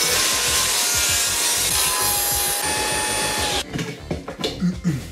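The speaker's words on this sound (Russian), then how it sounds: "включаем пилу и понеслась." A homemade table saw whines loudly as it bites through wood for several seconds, then the cut ends and scattered knocks and clatter follow.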